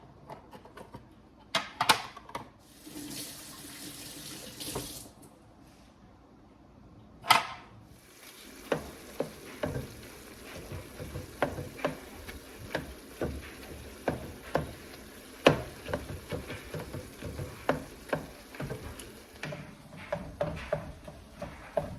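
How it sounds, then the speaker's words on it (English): Steady sizzle of hamburger meat frying in a pan with chopped green peppers, with frequent sharp clicks and scrapes of a utensil stirring, close and moderately loud. "So while my hamburger is frying, I'm gonna go ahead and add my chopped green peppers to the meat"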